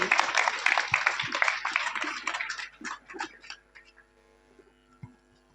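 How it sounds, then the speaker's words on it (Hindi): Hearty applause from the audience at a motivational poetry gathering, a spring-festival kavi sammelan held at a school, for an elderly poet; dense clapping fills the first seconds, then thins out and fades to scattered claps and quiet. "एक बार जोरदार तालियां बजा दीजिए चाचा जी के लिए"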